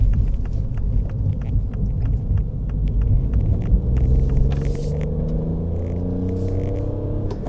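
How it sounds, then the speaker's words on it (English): A 2021 MINI Cooper 1499 GT fitted with a JCW exhaust gives a steady low grumble from the rear as it merges onto a highway, the engine note climbing gradually under continuous road rumble. "You get a nice grumble out of the back of the car"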